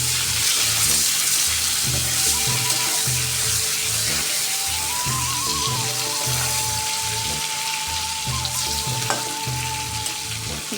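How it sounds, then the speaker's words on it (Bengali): Fish frying in oil with whole spices and green chillies, a loud steady sizzle with stirring scrapes close by, beneath a rhythmic low background music bed, no talk. "তেলের মধ্যে মাছগুলো হালকা নেড়ে ছেড়ে দিয়ে জল দিয়ে দেবো"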